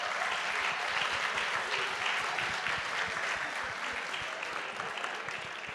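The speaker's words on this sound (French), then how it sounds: "On peut l'applaudir très chaleureusement." Warm audience applause after a speaker's talk at a French public conference, dense steady clapping from a seated crowd that holds strong throughout and tapers slightly toward the end.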